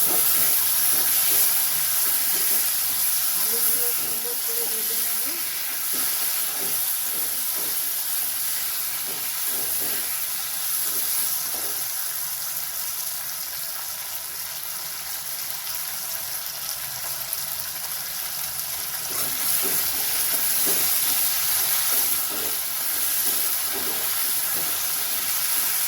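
Potatoes fry in hot oil for a prawn curry, giving off a steady, loud hiss and sizzle that continues throughout with small crackles and no voices.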